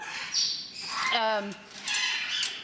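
Sparky, an elderly pet bird, gives a short harmonic squawk in the middle, framed by a few fainter chirps and scratchy calls, all fairly quiet.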